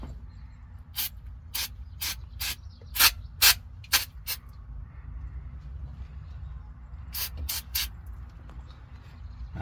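Cleaner sprays from an aerosol can in short hissing bursts, six quick ones in the first four seconds and three more near the end, over a low steady background hum.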